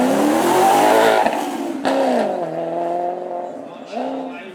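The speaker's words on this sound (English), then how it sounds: "And Maserati keeps that V8 theme alive." A Maserati V8 at a supercar show revs with rising and falling harmonic tones, loud and close, under a commentator's continuous talk.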